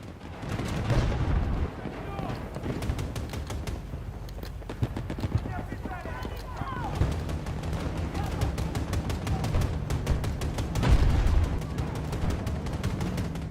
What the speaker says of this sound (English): It's like fucking bullets flying everywhere.